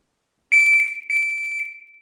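A shot timer sounds during dry fire practice with a pistol draw: two loud electronic beeps at a steady pitch, the first about half a second long, the second longer and fading, heard alone with no talk.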